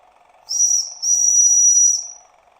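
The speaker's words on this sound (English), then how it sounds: "Very good whistle." A toy Weeden steam engine's whistle blows twice, high and piercing, a short blast then a longer held one, loud and close with a faint hiss around it.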